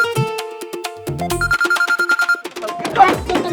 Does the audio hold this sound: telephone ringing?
yes